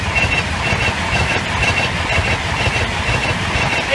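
Class 82 passenger set on an Edinburgh service rumbling over Church Lane level crossing in Nottinghamshire, a steady loud roar of wheels and rail noise throughout with broadband hiss, no speech.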